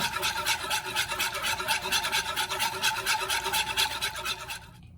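A whisk works heavy cream for an Alfredo sauce in a pan, producing a continuous close rhythmic scraping and swishing that stops abruptly at the end, with no voices.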